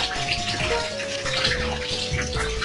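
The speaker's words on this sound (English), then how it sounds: "I'm pretty sure my viewing audience can hear the water as well" Water running from a tap or filling a bath, a steady broadband gush heard all the way through, with faint game music underneath.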